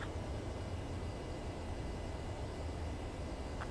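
Steady, unbroken drone of an airplane on final approach to a runway for landing, a dense even roar holding at one level throughout with no distinct events.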